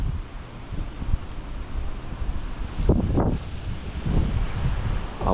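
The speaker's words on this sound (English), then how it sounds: "We've been getting very strong gusts of wind." Strong gusts sweep across a beach during Hurricane Milton, a constant roaring rush battering the microphone, with heavier blasts swelling near the middle and end.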